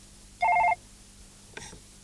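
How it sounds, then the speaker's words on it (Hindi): A telephone rings once with a short electronic warbling trill, fairly clear over a low background hum, followed by a faint click. "आपके लिए फोन है"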